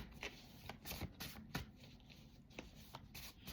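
Playing cards being shuffled, a soft series of riffling flutters and taps up close and fairly quiet, with no talking.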